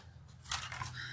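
Scissors cut through a paper tag in a quiet room, one brief crisp snip following faint handling sounds, close and soft.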